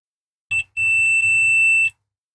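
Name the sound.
multimeter continuity beep checking USB cable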